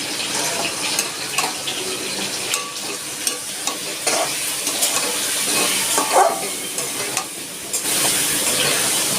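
Fish roe and potatoes dropped into spiced oil, frying with a loud continuous sizzle and bubbling, punctuated by repeated spoon-stirring scrapes and soft clatters.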